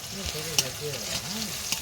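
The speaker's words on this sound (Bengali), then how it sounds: "বাবা পেঁয়াজ আর লঙ্কা দিয়ে দিয়েছে, দিয়ে ভালো করে নাড়াচাড়া করছে যতক্ষণ না ভাজা ভাজা হয়ে যাচ্ছে" Onions and chillies fry and sizzle in a pan while being stirred, a steady close hiss broken by a few sharp scrapes of the spoon, with no talking.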